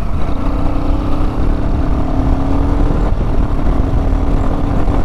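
A Royal Enfield Himalayan 452 motorcycle under way produces a steady, loud engine drone with a constant low hum and wind rush throughout.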